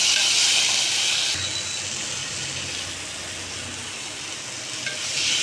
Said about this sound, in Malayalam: ഈ സമയത്ത് ഞാൻ ഒരു തക്കാളി അതും കൂടി ഒന്ന് നന്നായിട്ട് വഴണ്ട് വരട്ടെ.